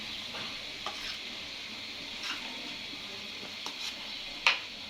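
Chicken sizzles steadily in a frying pan while a utensil stirs it, giving several soft scraping strokes and one sharper clink near the end, with no talking.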